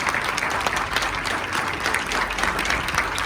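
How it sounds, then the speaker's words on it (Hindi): Sustained audience applause at a school Teacher's Day celebration, a steady wash of many hands clapping with a muffled, roomy, somewhat distant quality and no speech. "तो जोरदार ध्वनियाँ, आपकी तालियां रुकनी नहीं चाहिए।"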